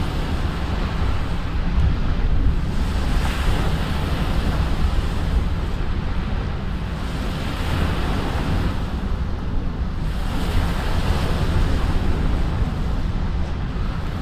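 Steady, rushing ocean surf and wind fill the air in Microsoft Flight Simulator on a flight out toward Antarctica. The broad wash swells gently every few seconds, continuous and fairly loud, with no talking.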